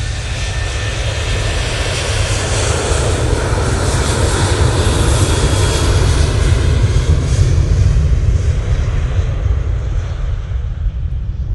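KLM Boeing 737 jet engines on the take-off roll at Manchester, a loud, steady roar with a deep rumble that holds throughout, heard from nearby with no talking.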